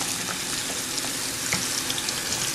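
Hands being washed with soap under a running tap, a steady, close hiss of flowing water splashing continuously with faint scrubbing, no voices.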